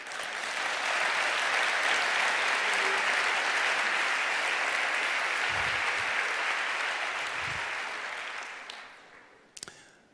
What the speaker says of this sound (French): On peut t'applaudir, je pense.